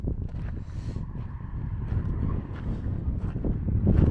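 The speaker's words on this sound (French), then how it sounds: "il y a du vent" Wind blowing through Death Valley on a cool day, a steady low rumbling buffet against the microphone that grows slightly stronger toward the end, with no talk.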